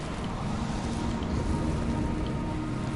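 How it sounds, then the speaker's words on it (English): Steady rain pours down at night in the video game Concrete Genie, a dense, even hiss of drops striking surfaces that holds at the same level from start to finish with no voices over it. "since it's during nighttime, it would also be raining as well"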